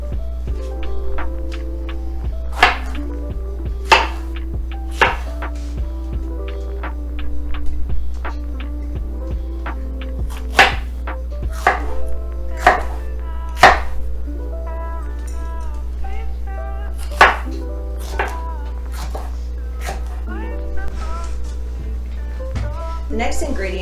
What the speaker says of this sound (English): when you're cutting your jalapenos, you don't want to remove too much of the seeds and stem